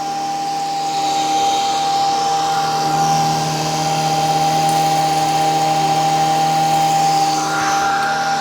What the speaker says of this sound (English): I'm gonna go to carpet mode, and I'm gonna ramp the suction back up to medium.